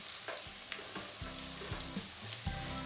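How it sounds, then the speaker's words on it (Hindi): Onions fried golden brown sizzle in a pan as two garlic cloves are added and sautéed, a steady close crackle broken by stirring clatters and scrapes for a few seconds, with no talk. "अब हम इसमें 2 लहसुन की कलियां डालेंगे और इसे भी साथ में भुनेंगे।"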